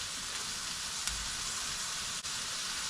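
Onion frying in oil in a pan, giving a steady, close broadband sizzle that holds even throughout, with one brief pop partway in and no voices.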